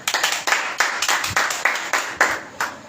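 A congregation at a church meeting claps in an even, rhythmic beat, sharp hand claps repeating roughly three times a second, loud and close, with no talking over them.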